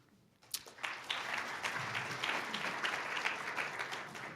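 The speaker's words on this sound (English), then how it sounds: "You might want to hold our applause because I have about 4 or 5 other people to go" An audience at a talk in Houston bursts into steady applause for guests as they are introduced, a dense patter of many hands that starts suddenly and holds at a moderate level throughout, with no talk over it.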